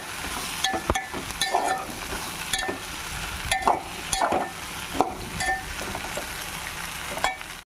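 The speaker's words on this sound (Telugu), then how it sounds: "మళ్ళీ రెండింటిని కొంచెం మగ్గనిద్దాం." Okra and vegetables cooking with chili powder in a pan for Andhra-style bendakaya pulusu, a loud, close sizzle broken by repeated scraping stirs and clinks of a spoon against the pan.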